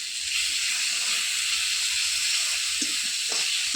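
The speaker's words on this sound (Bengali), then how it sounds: "আর আদা রসুনের ভালোভাবে ভাজা ভাজা করে নেব" Ginger garlic paste fries on a clay stove with a steady, close hiss of sizzling that stays even throughout, and a few faint knocks come near the end.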